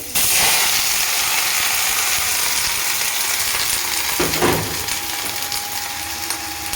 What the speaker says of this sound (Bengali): এই যে এটা এখন আমি ছেড়ে দিচ্ছি, অল্পটুক তেল দিয়েছি।